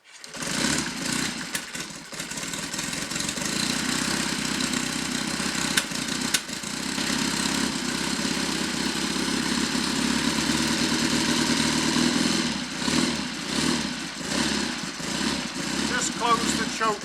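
A Triumph/Royal Enfield 'Trifield' 500 trials motorcycle with its choke closed idles just after start-up, a steady close putter with uneven bursts and a few throttle blips near the end, while someone talks over the engine.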